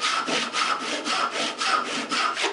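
A cheap tenon saw with a paraffin-waxed plate cuts through wood in steady back-and-forth strokes, about five even rasping passes close up, with no talking.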